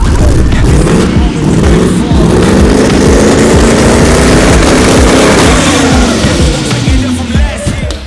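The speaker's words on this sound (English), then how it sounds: "We got the quad turbo, and because you loved it last time, we're gonna do some dose pipe testing." Quad turbo engine with dose pipes revving hard: a very loud, close, roaring rev that rises and falls, with fluttering turbo chatter layered over the engine throughout.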